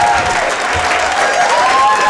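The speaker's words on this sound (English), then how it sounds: "Just a 50-second applause." A comedy club audience applauds after a stand-up set, a dense, loud, continuous roar of clapping with a faint tone and crowd murmur running through it.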